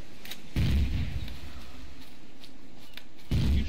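Two heavy booming gunshots from turrets in Empyrion Galactic Survival multiplayer, one near the start and one near the end, each a loud low thud with a rumbling tail, separated by quieter background noise.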